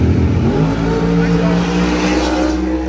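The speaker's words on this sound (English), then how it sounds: "Why do race cars want to do that while we're talking?" Race cars at a drag racing event rev loudly and pass close by in a dense, continuous engine roar, with people talking under the noise.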